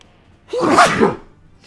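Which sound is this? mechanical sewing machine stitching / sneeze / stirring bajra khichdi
sneeze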